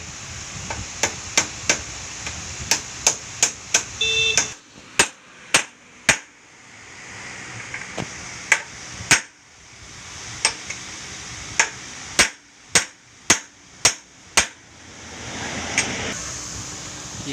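Sharp metal-on-metal hammer blows drive a motorcycle handlebar racer bearing into place. Over a dozen loud, close strikes come in irregular groups against a low background hum.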